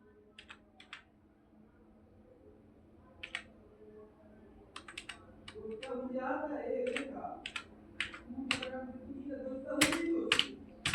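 Quick bursts of typing on a computer keyboard, clicks coming in short irregular runs, with a voice talking over much of the keystrokes.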